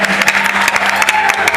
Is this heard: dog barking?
no